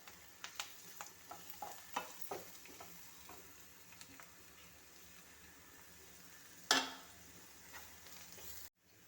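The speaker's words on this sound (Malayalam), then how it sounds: "മഞ്ഞൾപ്പൊടിയും മല്ലിപ്പൊടിയും ഗരം മസാലയും കൂടെ ചേർത്ത് വഴറ്റാം." Turmeric, coriander powder and garam masala are sautéed with onions for chicken kurma, a faint steady sizzle punctuated by soft spoon scrapes and taps, one louder clank near the end.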